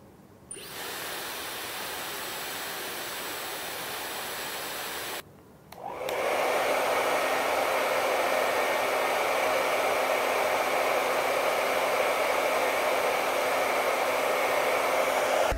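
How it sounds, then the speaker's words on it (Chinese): A Dyson HD01 hair dryer blows with a steady, loud, airy whoosh, measured from about 60 cm during a noise test. It cuts out briefly, then restarts at a stronger, fuller roar that holds to the end. "我们就来测试一下电吹风的噪音"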